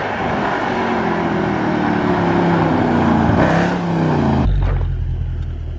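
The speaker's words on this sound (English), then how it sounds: "You really do not get a sense of how loud and how evil that car is on a computer screen." Loud car engine of a very loud, aggressive performance car, a steady heavy rumble that swells around the middle, then cuts to a deep low idle near the end, close and alone without talk.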